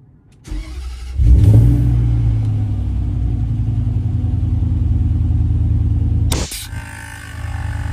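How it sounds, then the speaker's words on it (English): A Range Rover L322 engine cranks and catches, then idles with a steady low rumble for several seconds before the revs drop near the end. "So I'll start the engine now."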